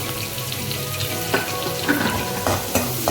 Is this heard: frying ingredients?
yes